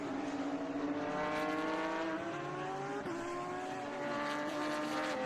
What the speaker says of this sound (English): the cars starting to spread around as they head through Thunder Valley